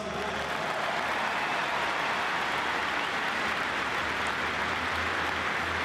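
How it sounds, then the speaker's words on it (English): A large crowd at the Limerick v Cork 2021 All-Ireland hurling final celebration applauds the team, a steady distant wash of clapping that holds evenly throughout. "So round of applause for all the boys."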